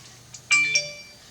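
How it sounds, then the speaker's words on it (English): A short electronic phone notification chime rings out, a few bright tones in quick succession that linger briefly before fading, with no talking. "that was my phone making a noise"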